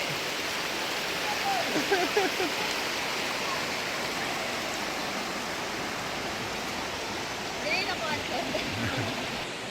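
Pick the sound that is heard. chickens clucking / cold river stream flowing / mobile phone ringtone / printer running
cold river stream flowing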